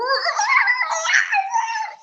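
A human voice imitates a dog's howl, a wavering, high, mournful wail held for about two seconds, close and fairly loud, then tailing off.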